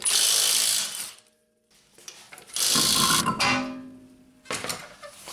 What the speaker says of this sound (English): using a 19mm deep socket and an impact, we're going to take the wheel off